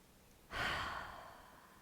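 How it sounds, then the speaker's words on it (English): During an at-home yoga stretch, a single deep breath is let out through the mouth: a long, breathy exhale that starts abruptly and fades slowly, close and quiet. "take a breath in through the nose, out through the mouth"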